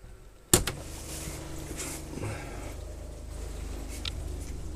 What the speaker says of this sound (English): we're going to turn on the pump